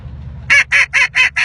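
A hunter's duck call blows five sharp, evenly spaced quacks in quick succession, loud and close, after a moment of low background rumble.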